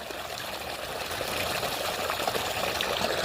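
Water gushes steadily from a newly drilled borewell pump on a farm, a constant close, loud rushing splash with no pauses.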